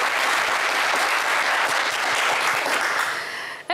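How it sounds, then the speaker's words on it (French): A TV game show studio audience bursts into loud, continuous applause that holds steady for a few seconds before tapering off abruptly at the end. "on vous applaudit"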